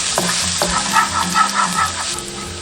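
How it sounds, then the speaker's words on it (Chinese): Minced garlic sizzles and fries loudly in hot cooking oil in a wok and is stirred, giving close, continuous crackling with scraping stir strokes and no talking. "油热过后下入蒜末炒香"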